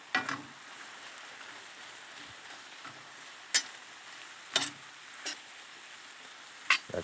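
Flour stirred into a pan of pancetta for potatoes: a steady soft sizzle runs throughout, with a few sharp, sparse clicks of a utensil against the pan. No one speaks.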